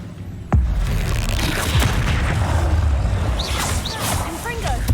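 Bombarda explosion spell in the video game Hogwarts Legacy, a single heavy boom at the start followed by a rumbling blast tail, with a voice calling out over the game's ongoing effects.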